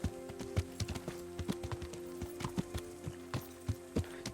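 Horse hooves clip-clop at a steady riding gait in the medieval game Kingdom Come: Deliverance, a close, regular run of hoofbeats with no talk over them.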